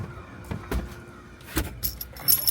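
Ignition key clicks and jingles on an old GMC truck that has sat for years, a few sharp metallic taps and rattles close by in a quiet cab, with a faint high electrical whine near the end.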